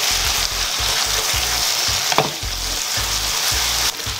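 Shredded chicken abon frying in a pan while being stirred, a loud continuous sizzle close up, punctuated by a regular rhythm of scraping stirring strokes and no talking.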